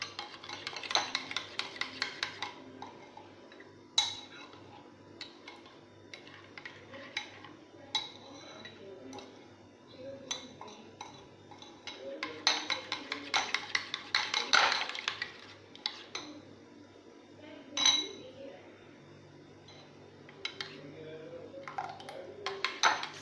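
Chana chaat being stirred with chaat masala in a bowl: a spoon scrapes and clinks against the bowl in irregular bursts, close and moderately loud, with a faint steady hum underneath.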